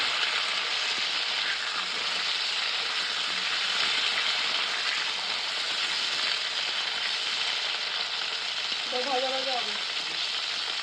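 Steady, close sizzling of cauliflower frying in a hot pan, a continuous crackle with a short murmur of voice near the end.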